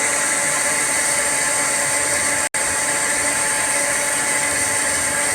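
Loud, steady whooshing hum of a player piano wind motor running on a vacuum hose, continuous for several seconds with one brief cut-out midway, alone with no voices.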